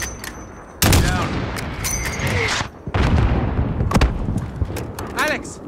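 Heavy mortar and gunfire explosions from Call of Duty: Modern Warfare, with repeated loud booms and crackling blasts in quick succession, close and dominant, while voices shout over the battle.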